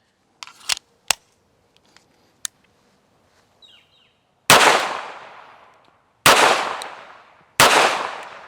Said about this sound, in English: I better reload.